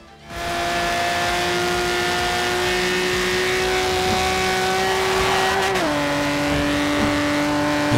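Ferrari Testarossa engine in Forza Horizon 2 holds a loud, steady high-rpm drone with a clear tonal whine, then drops in pitch near the end as if shifting gear, continuous and close with no talk.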